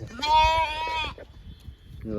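A sheep gives a close, clear bleat, then a short pause and the start of another bleat, set against faint rural background noise.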